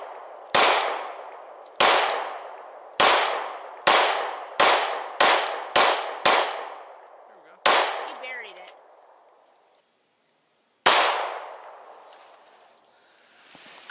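Sharp gunshots ring out one after another at a target range where ornaments are being shot, about eleven loud cracks with decaying echoes, closely spaced in the middle, then a pause before a final shot.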